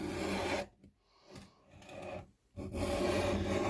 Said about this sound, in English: So I like to take a file of that too, and for that I have a diamond file. File this a little bit on the back,